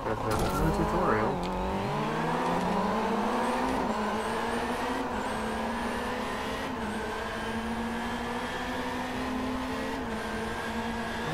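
Car engine in the racing game Driveclub VR, driving at dusk: a steady, droning engine note that climbs and shifts through gears, with speech over it.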